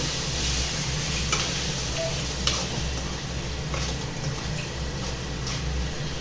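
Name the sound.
eggplant frying and being stirred in a pan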